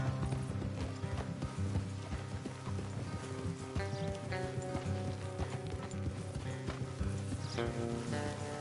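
Horses from Red Dead Redemption 2 moving along a road, hooves clip-clopping in a quick steady rhythm close by, with an occasional creak of tack and a brief whinny.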